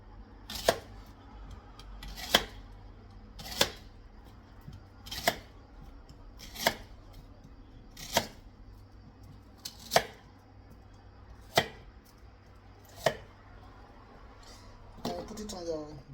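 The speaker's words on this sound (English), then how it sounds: "just dice it like this." A knife dices plantain and yam for fufu on a board, a dozen sharp, evenly spaced chops ringing out clearly over a quiet background, ending with a brief flurry of faster cuts.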